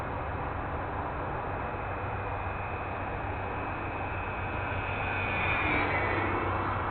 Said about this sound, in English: Let's make us a pass right down the runway here.